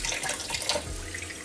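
Water running from a sink faucet into a measuring cup, a steady splashing hiss with bright gurgling, close and fairly loud, lasting the whole short moment with no talking.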